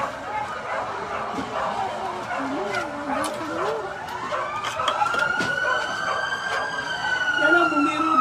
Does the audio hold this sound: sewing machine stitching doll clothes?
no